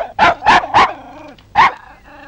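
A dog barks four times at close range, three quick loud barks in a row and then a single bark after a pause, with no talking over it, in a 1962 Soviet comedy film scene.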